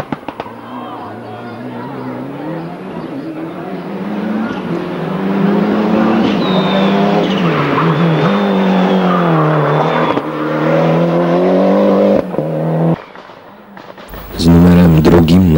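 Toyota Celica rally car on an asphalt special stage near Sobótka-Sulistrowiczki, its engine rising and falling loudly as it revs through the run, with commentary over it and brief popping bursts near the end.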